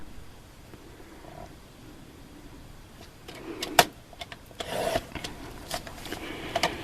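A paper trimmer slices through cardstock during card making, heard as faint, close rasping and sliding strokes with a few sharper scrapes over a quiet background.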